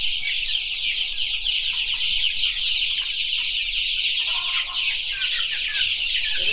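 Chickens settled into a coop fitted with feeders and water cluck loudly and continuously, a busy overlapping chorus of close calls with no talking.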